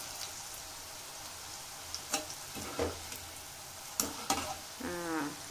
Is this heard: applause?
no